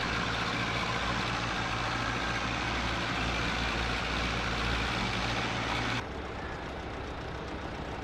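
Tractor engine in Farming Simulator 22 runs steadily at a low idle-like drone, loud and continuous, then drops to a quieter, thinner hum for the last two seconds.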